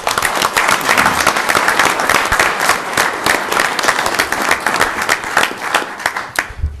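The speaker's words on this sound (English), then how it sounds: "Let's give another round of applause." An audience at a city council meeting gives a loud, dense round of applause, with close, continuous clapping lasting several seconds before it thins out at the end.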